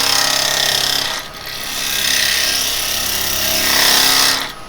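Wood being cut on a lathe with a traditional bevel-controlled turning tool, a steady loud scraping hiss with the spinning workpiece humming beneath, easing briefly then continuing close up without speech.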